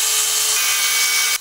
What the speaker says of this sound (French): Tu peux la découper avec une scie circulaire manuelle.